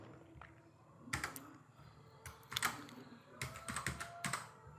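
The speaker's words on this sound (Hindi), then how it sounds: "अब जैसे अगर यहाँ पे हम टाइप करते हैं नेम" Computer keyboard being typed on to enter a name, several short clusters of crisp key clicks separated by pauses, close and quiet in a calm room.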